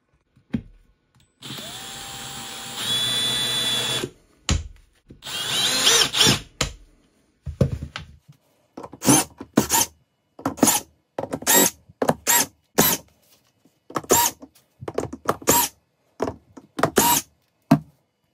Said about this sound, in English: Should be able to unscrew it just literally probably 30 seconds to get into this one.